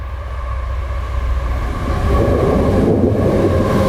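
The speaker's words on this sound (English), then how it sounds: "the train's approaching" A train rumbles loudly overhead across a railway bridge, heard from underneath as a deep, steady roar that swells and grows heavier toward the end.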